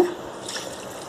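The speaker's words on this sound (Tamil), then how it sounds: "கொஞ்சமாக தண்ணி ஊற்றிக்கோங்க" A small amount of water is poured in a home kitchen while making mint dishwashing liquid, giving a soft, faint trickle and splash that lasts only about a second.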